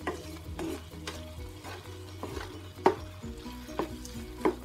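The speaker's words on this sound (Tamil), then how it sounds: "அப்படியே ஒரு சுற்றி சுற்றி அதில் மிக்சிங் பண்ணிடலாம் பொறுமையாக" Red wine prawn curry stirred slowly in a pan, a faint sizzle under repeated spoon scrapes and soft clinks against the pan, a few sharper knocks, close and with no one talking.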